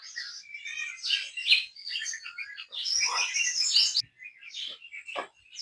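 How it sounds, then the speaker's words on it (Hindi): Several birds chirp and tweet close by during a morning walk outdoors, with bright overlapping calls and short trills that come in quick bursts with brief pauses between them, loud and clear without any talking. "ये हर तरफ सुबह सुबह परिंदों की आवाज़ें आती हैं।"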